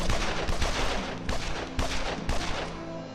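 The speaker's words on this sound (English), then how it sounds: "they're shooting all my guys who are coming through" Repeated gunfire bursts in the video game Evil Genius, with about five sharp volleys evenly spaced amid continuous rattling shots, loud and close.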